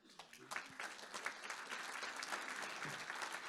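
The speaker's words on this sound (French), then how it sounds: "Alors vous pouvez vous applaudir" Audience applause at an event against sexism, a dense steady patter of many hands clapping throughout at moderate distance, with no voices standing out.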